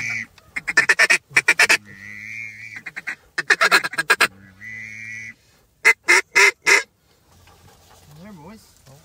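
Several bursts of duck quacking from a flock heard from a hunting blind, loud clustered calls in three or four groups, with softer goose-like honks and a rising-falling call near the end.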